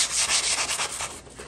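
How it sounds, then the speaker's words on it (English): Light sanding of a wooden French door with a sponge sander makes a rapid back-and-forth scratchy rubbing, close and steady over a second and a half. "I just mean a light sanding when I say smoothed down. Got to get into these grooves with a sponge sander"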